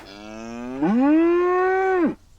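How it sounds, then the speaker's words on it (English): Cattle stand on railway tracks in a children's train cartoon, and one cow lets out a single long, loud moo that starts low, rises and holds, then drops off sharply. "They were still mooing and chewing all over the tracks"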